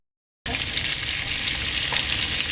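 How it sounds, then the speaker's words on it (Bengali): Potatoes fry in a little oil, giving a loud, steady sizzle that starts abruptly and runs unbroken to the end, with no talking. "আমি একটু অল্প তেল দিয়ে আলুটাকে ভাজছি আগে"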